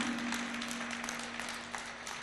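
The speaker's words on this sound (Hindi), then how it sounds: "एक बार हमारे जो स्टाफ है यहाँ का, एक बार उनके लिए तालियां बजा दीजिए।" Applause from an audience at a religious discourse gathering, honouring the staff; a continuous, fairly faint wash of clapping with a steady hum underneath.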